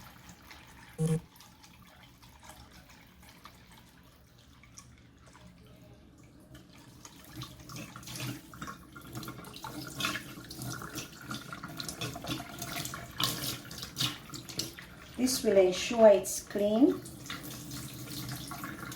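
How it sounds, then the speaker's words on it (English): Kitchen tap water runs over raw chicken in a sink, a faint splashing stream that grows louder near the end, with a person speaking over it. "I'll let my chicken have a run through of water so that everything that I don't want is removed."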